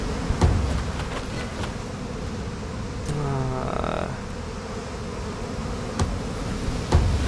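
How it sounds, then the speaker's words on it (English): Swarm of bees buzzing in the Massive Chalice strategy game, a continuous droning hum with a brief rising whine midway and a few sharp clicks, no voices. "You may get hit by your own bees."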